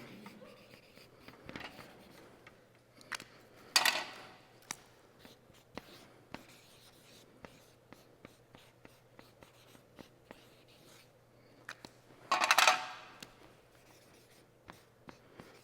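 Pens writing notes on paper in a quiet room, with soft continuous scratching, intermittent taps and a few louder rustling bursts under a faint steady hum, with no talk.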